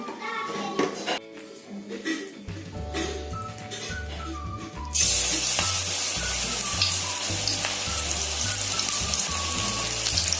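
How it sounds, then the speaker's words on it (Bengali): Cabbage pakoras dropped into hot refined oil, a loud steady sizzle and bubbling that swells suddenly midway and continues densely, after quieter kitchen clatter and low background music. "আমার এখানে তেল গরম হয়ে গেছে। এবারে আমি একে একে এখানে পকোড়াগুলো দিয়ে দেবো।"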